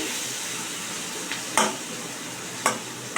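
Pumpkin mixture being stirred in a pan over gentle sizzling, with a few sharp scraping taps of a spatula against the pan, close and otherwise quiet.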